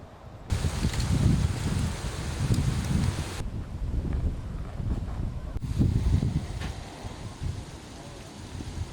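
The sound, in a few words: wind on golf course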